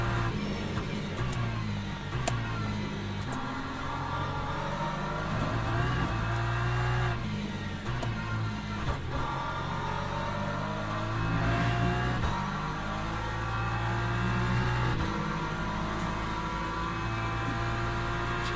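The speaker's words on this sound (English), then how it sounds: "Here comes the hypercar." A hypercar's engine in the racing video game Le Mans Ultimate, droning loud and steady for the whole stretch, its pitch climbing and dropping through gear shifts and revs, with no voices.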